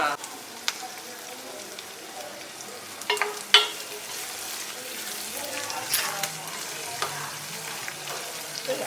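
Tempering spices for a Dasara hurali (horse gram) dish frying in a pan, a quiet sizzle with scattered sharp pops and crackles and occasional stirring scrapes, fairly faint and steady.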